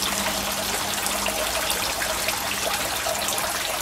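Fresh water trickles steadily into a fish tank, a continuous close splashing wash without breaks and with no talking over it.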